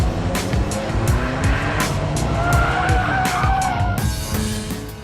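An Alfa Romeo 4C sports car roars continuously while driven hard, engine note rising and shifting with tyre noise and brief squeals, loud and close throughout.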